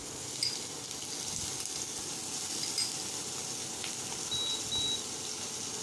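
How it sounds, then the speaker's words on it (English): Chopped onion frying in a pan gives a soft, steady sizzle with faint watery crackle, continuous and fairly quiet, and a few thin beeps sound in the background. "Now we will add little bit of chopped onion in it."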